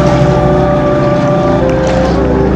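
A loud, close motorboat engine drones steadily with a low throbbing rumble on a flooded river in Bulacan during Typhoon Carina, with wind buffeting the microphone.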